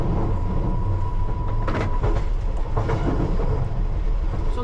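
London Underground train running at night at about 35 mph between Acton Town and Chiswick Park, a steady close rumbling roar with faint rhythmic clatter of the rails throughout.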